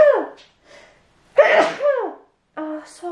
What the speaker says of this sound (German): es geht schon seit ein paar Tagen so, dass ich immer niesen muss